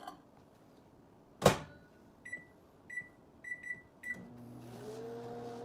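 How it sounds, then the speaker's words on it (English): A microwave oven heating noodles runs with a low steady hum, preceded by a loud thunk of the door and a string of short keypad beeps before the magnetron drone settles in. "so we're gonna microwave these for another 4 minutes"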